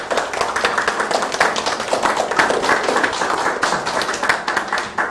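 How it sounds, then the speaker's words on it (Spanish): Audience clapping after a speaker at a round-table panel on ventilation management of critically ill patients, steady and dense through the whole stretch with individual claps standing out. "Aplausos para ella"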